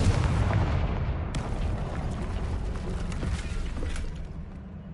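A Confringo blasting spell explodes in the Hogwarts Legacy video game, a loud, sustained booming roar that rumbles steadily for several seconds before easing slightly at the end.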